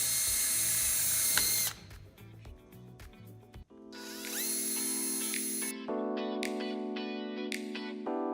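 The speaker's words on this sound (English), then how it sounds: "Now the time has come to drill." A power drill drilling during assembly of window and balcony fall protection, whirring in several bursts with changing motor pitch and short pauses between, close and clear with no talk.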